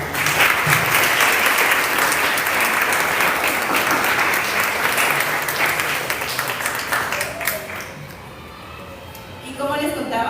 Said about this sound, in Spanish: démosles una bienvenida con un aplauso a nuestras invitadas el día de hoy